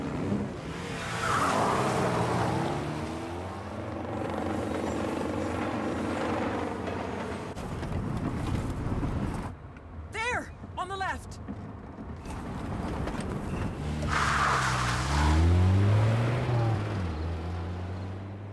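A car in the video game As Dusk Falls speeds off in a getaway, its engine droning loud and steady, then revving and rising again near the end amid other game sounds.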